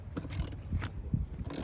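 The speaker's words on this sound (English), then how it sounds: "I'm tightening the bolts up." Bolts being tightened on a TentBox tent mounted on a car roof: faint, scattered metallic clicks and ratcheting taps at an irregular pace, quiet and close.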